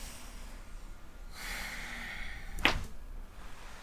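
A deep breath in during a chiropractic neck adjustment, a soft, drawn-out inhale lasting about a second, followed by a short sharp snort-like burst, close and quiet with no talk.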